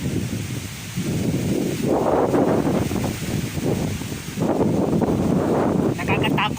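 Strong typhoon wind gusts at landfall in San Carlos City, Pangasinan, buffeting the microphone and rustling trees in surging waves that swell and ease.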